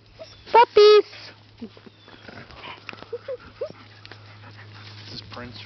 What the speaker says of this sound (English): Puppies!